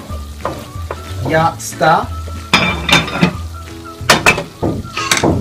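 Tomato sauce for mussels sizzles and bubbles in a pan up close while a utensil stirs and clinks against the metal in bursts, and a voice briefly speaks over the cooking.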